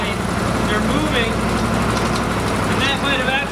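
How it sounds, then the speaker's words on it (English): An idling Argo amphibious vehicle rumbles steadily up close while its moving brake pads add faint clunks and squeaks over the engine drone. "Clunking noise you're hearing, that's the brake pads on this side."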